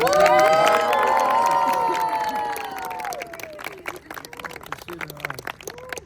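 Audience at an evening gathering with a spiritual teacher in Niechorze, Poland breaks into loud cheering and applause with whooping voices, then fades to scattered clapping and lingering crowd noise.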